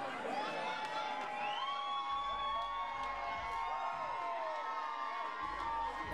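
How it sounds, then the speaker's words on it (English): A wrestling match crowd cheers and shouts continuously, with high children's yells and whoops ringing out over a dense roar. "And the crowd loves it."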